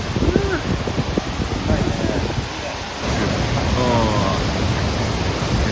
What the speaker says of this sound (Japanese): 今到着したのは原尻の滝というところです。